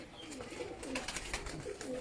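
Pigeons on a rooftop coo softly in repeated low murmuring calls, fairly quiet and somewhat distant.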